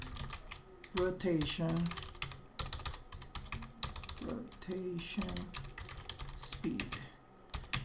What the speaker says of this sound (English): So let's type in here scalar